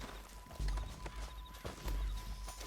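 A horse's hooves clip-clop at a walk in Red Dead Redemption 2. The paced, fairly faint hoof falls sit over low ambient noise.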